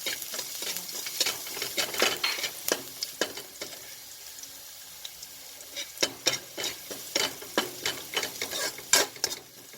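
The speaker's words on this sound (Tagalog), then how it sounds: "mainit na ang mantika, bawang. Kailangan po golden brown." Garlic sizzles steadily in hot oil for squid adobo while a spatula scrapes and stirs the pan in repeated rhythmic strokes, close and clear with no talking.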